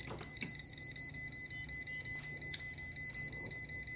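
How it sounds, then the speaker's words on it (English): An electrical voltage tester beeps on a live outlet, a rapid, steady train of short high-pitched tones held at an even level throughout. "When it's on, it's green, and it'll beep repeatedly and turn red."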